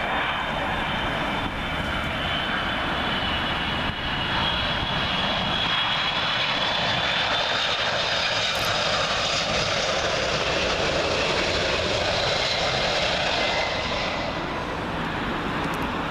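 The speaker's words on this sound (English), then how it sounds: "First up, Delta Airlines A330 from Salt Lake City." A Delta Air Lines Airbus A330 from Salt Lake City comes in to land on Heathrow's runway 27L, a loud, sustained jet roar passing close overhead and holding steady for the whole stretch, with no voices.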